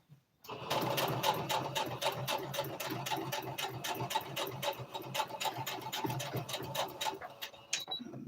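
A sewing machine stitches and back stitches fabric for a twist turban hat, its rapid needle ticking running steadily and loud from start to finish with only a short pause near the end.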